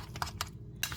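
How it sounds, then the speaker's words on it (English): A spoon clinks and scrapes against a bowl while stirring deviled egg filling made with Frank's Red Hot sauce and honey: three short, light taps spaced within a second, close and fairly faint. "Give it another stir."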